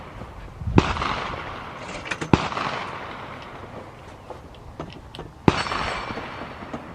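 PSL or RPK rifle gunshots ring out at an outdoor range, three sharp cracks spaced apart, each trailing off into the open air, moderately distant with no voices.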